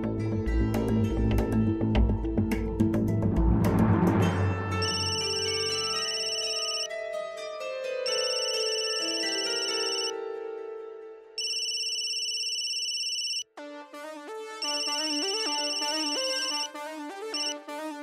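Phone ringback and ringtone during a call being placed: electronic tones beep in repeating bursts, some long sustained notes with brief gaps, fairly loud and alone after an opening swell of music.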